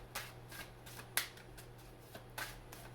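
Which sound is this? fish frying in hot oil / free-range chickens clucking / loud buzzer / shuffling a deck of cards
shuffling a deck of cards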